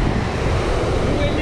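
Strong wind buffets the microphone on a Tokyo island coast, a steady loud roar of gusts mixed with breaking surf throughout, with no talk.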